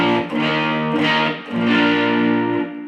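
Electric guitar through a distortion pedal into a Yamaha THR5 amp: heavily distorted chords ring out loud and sustained, with a brief dip between strummed phrases and no voices.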